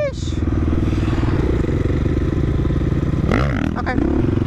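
A motorcycle riding along with a continuous close engine rumble, a brief shift in pitch partway through, and a voice speaking over it.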